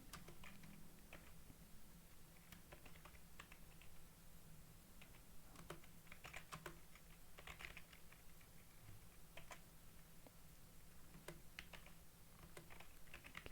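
Typing on a computer keyboard while entering file commands in an operating system lab: a steady patter of light key clicks with occasional louder strikes, quiet and close, with no talking.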